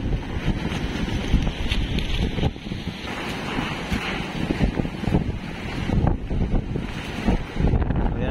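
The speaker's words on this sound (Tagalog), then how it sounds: "masyado na po malakas yung hangin at alon" Strong typhoon wind buffets the microphone while heavy waves surge and crash along the shore at Dinahican, Infanta, Quezon, a loud, constant roar without a break.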